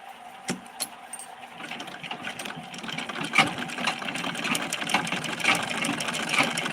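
A sewing machine stitches in a home setting, making a fairly faint, steady mechanical whir with light clicks and occasional knocks running throughout.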